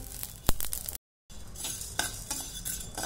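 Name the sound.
shahjeera (caraway) seeds crackling while dry-roasting in a pan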